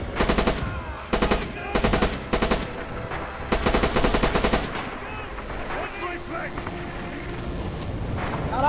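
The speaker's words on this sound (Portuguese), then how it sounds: "A artilharia caiu do meu lado!" Gunfire and a nearby artillery shell blast in Red Orchestra 2 combat: several loud, close bursts of automatic fire in quick succession, followed by a heavy rumbling roar and lingering battlefield noise, with a voice talking over it.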